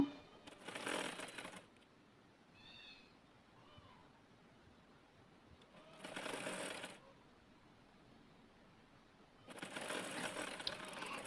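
Sewing machine stitching a garment body with sleeves, heard as three short whirring bursts of rapid mechanical stitching separated by quiet pauses, close and fairly soft.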